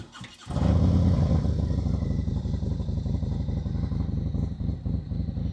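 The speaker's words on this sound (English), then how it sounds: "I want you to listen to my engine." A motorcycle engine fires up and runs during a slow-speed riding demonstration at a practice session in Tennessee, a loud, close, throbbing idle with a steady pulsing beat that holds throughout.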